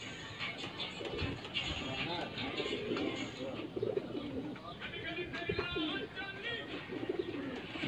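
Pigeons coo from a rooftop loft in Sheikhupura during breeding season, their soft rolling calls repeating steadily through the clip over a busy background with some chirps and distant noise.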